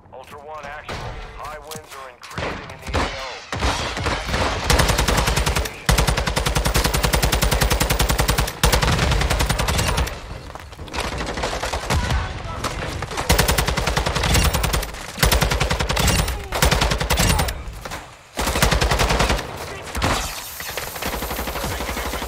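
Call of Duty MW2 DMZ video game gunfire: loud, sustained automatic bursts and rapid shots almost nonstop, broken by brief pauses, with players talking over the action.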